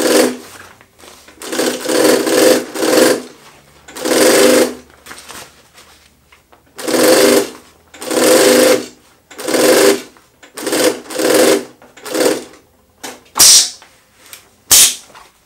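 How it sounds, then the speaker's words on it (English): A flatbed sewing machine stitches down fabric binding in short repeated bursts of loud motor whirring, each run stopping and restarting in an uneven rhythm, close by. "sewing them down on the flatbed machine"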